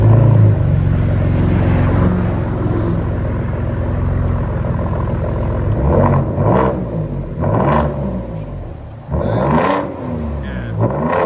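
Deep exhaust rumble from inside a Ford F-150 3.5L EcoBoost pickup cabin, with an X-pipe exhaust, holding a steady drone before several revs rise and fall in pitch.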